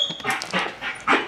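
A dog pants and whimpers close by in short, quick breathy bursts and thin whines across a brief moment, with no talk over it.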